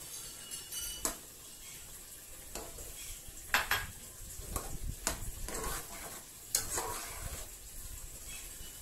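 String beans tipped into a pan of half-cooked pasta, with soft sizzling under a series of spoon scrapes, clinks and knocks against the pan at an irregular pace.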